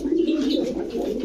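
Lahori, racer and Giribaz pigeons coo softly and close by, a low throaty warble that rolls on continuously through the brief moment.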